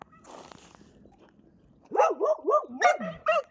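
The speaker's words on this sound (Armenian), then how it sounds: "ինչ եք անկապ հաչում" Several dogs bark in a quick run of loud, close barks after a quieter stretch of rustling background noise.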